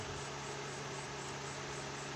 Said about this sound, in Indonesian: ini posisi mesin sudah saya hidupkan sambil kita aliri air agar tidak panas ya kawan